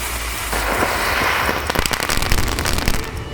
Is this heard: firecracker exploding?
yes